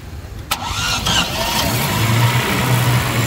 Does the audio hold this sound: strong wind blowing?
no